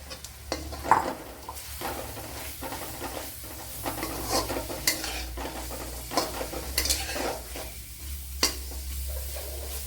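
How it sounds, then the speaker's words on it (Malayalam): Onion stirred in hot oil with garlic and ginger while prawn biryani is being prepared. A steady sizzle sits under repeated scraping strokes of a spoon against the pot, and the clatter of the pan rises and falls close by. "ഇനി ഇതിലേക്ക് സവാള തട്ടി കൊടുക്കുക."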